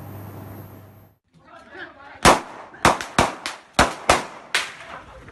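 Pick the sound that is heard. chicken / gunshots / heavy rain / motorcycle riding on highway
gunshots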